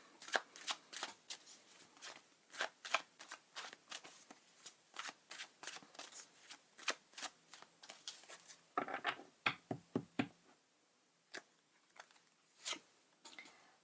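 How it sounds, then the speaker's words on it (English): Tarot cards are riffled and drawn in a rapid run of crisp, close flicks and snaps, then a brief pause, then a few separate card slaps, all quiet and with no talking. "So let me get another few cards for you."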